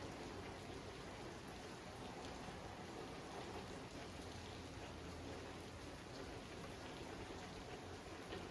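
Steady rain falls outside near a camper build site, a dense, even hiss of drops on surfaces that holds unbroken throughout with no voices.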